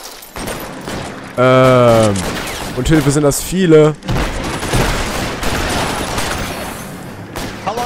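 Gunfire crackles through a shootout in the detective game L.A. Noire, a rapid fusillade of shots under someone speaking German, with game voices and shouting in between.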